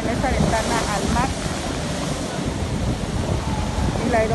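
Caribbean sea waves wash steadily onto the eroded sand of Playa Delfines, a constant near surf roar mixed with wind buffeting the microphone, and faint voices occasionally above it.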